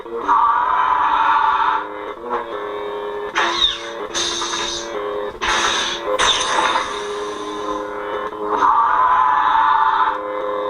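A humming, buzzing lightsaber blade sound from an UltraSabers Guardian sound font, with a man's scream-like wail layered in, swelling and fading through several loud swings.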